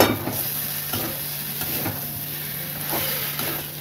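Crab masala with Kashmiri chilli powder being sautéed in a pan, a steady close sizzle with spoon scrapes and stirring clicks every second or so, no talking.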